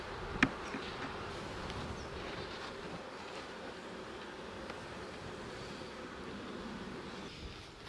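Honeybees buzz around beehives in a steady, fairly faint insect drone that holds throughout, with a brief sharp click near the start.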